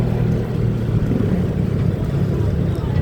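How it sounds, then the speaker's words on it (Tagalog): A 125cc motorcycle rides along the Cebu Cordova expressway, its engine giving a steady, loud, close drone mixed with wind rush throughout, while a voice speaks over it. "Ngayon, akadara tayo ng Expressway na 125 lang ang ating dalang motor."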